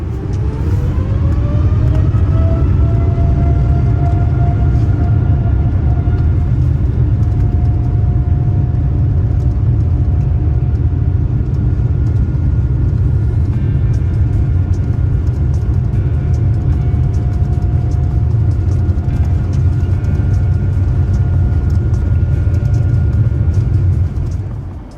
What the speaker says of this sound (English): The spool up is next.